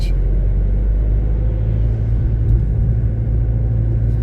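A BMW car drives past, giving a loud, steady low engine rumble with a slight swell near the middle.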